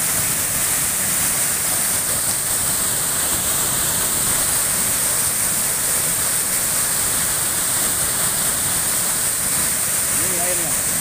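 Lungkuk waterfall roars as a steady, dense rush of falling water, close and constant with no breaks, and no voices rise above it.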